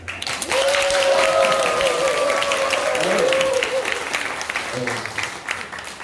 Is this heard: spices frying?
no